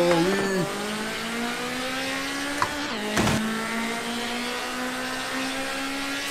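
Turbocharged 800hp K24 Honda Civic EG6 launching in a racing game with all-wheel drive, a sustained rising engine whine with a brief gear-change dip, loud and close, no talk.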